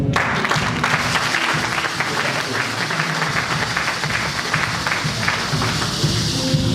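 A church congregation applauds together at a worship service, a steady, dense wash of clapping that holds at an even level throughout with no voices standing out.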